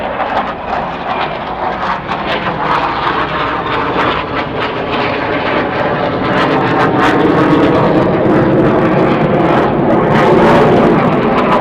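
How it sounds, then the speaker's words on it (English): Airplane flying overhead during an outdoor news conference, a loud sustained engine roar that builds and swells across the whole stretch, with faint clicks and no speech. "Now I'll pause for the plane."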